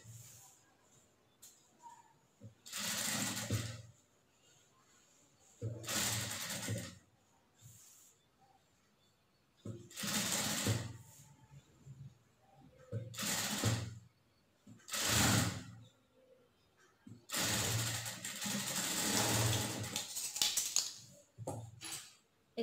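A sewing machine stitches a nightgown in several separate bursts of a few seconds each, with short quiet gaps between runs as the fabric is folded and turned.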